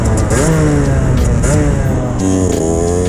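A Derbi Senda 50cc motorcycle revving hard in second gear for a no-clutch wheelie, its loud, buzzy two-stroke engine rising and falling in pitch several times, close and continuous.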